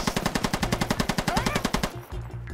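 Rapid automatic rifle fire in the video game Squad: a close, loud, steady burst of roughly twenty shots over about two seconds, ending in a low rumbling tail.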